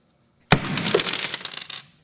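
A brown glass bottle shatters with one sharp crash, followed by about a second of tinkling, scattering shards; close and loud, with no talking.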